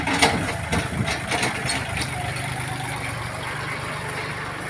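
A small 36-horsepower diesel walking tractor engine idles steadily and close by, a constant low rumble with some clattering over it and no voices.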